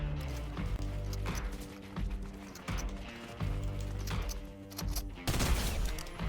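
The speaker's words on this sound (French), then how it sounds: "Et là-bas, j'entends des tirs" Rapid bursts of gunfire in a competitive shooter video game, with dense repeated shots and clattering effects layered over game music and ambience, fairly busy and continuous.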